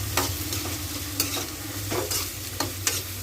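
A spatula scrapes and stirs chopped snake gourd in a pan over a steady sizzle, with several sharp scraping strokes at an irregular pace, while cooking a snake gourd stir-fry.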